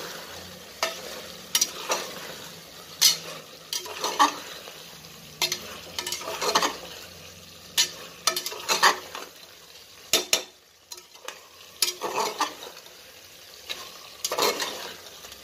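Jackfruit being stirred in a hot pan for biryani, a low sizzle under repeated sharp scrapes and clinks of a spatula against the metal, close and irregular.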